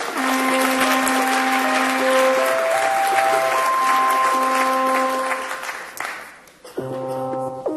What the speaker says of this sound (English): A round of applause for the volunteers.